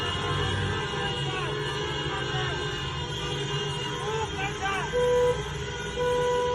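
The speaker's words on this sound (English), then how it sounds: "the cars are honking in support of the girls" Car horns toot on a busy bridge during a street protest where women remove their hijabs; short honks rise near the end over steady traffic and crowd noise while a voice talks.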